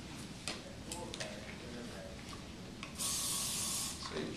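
A can of hairspray mists onto hair being styled into a bridal chignon, giving one loud, steady hiss of about a second near the end, after several soft ticking brush and handling sounds.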